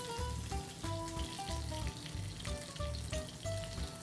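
Alaskan red salmon, freshly caught, sizzles steadily as it fries skin-side down in a pan, a continuous crackling hiss with small pops, close and alone without talk.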